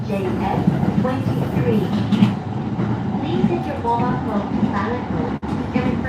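A Japanese commuter train runs between Ikebukuro and Kumagaya, giving a steady loud rumble of the carriage with rattling and rail noise throughout, heard from inside and close.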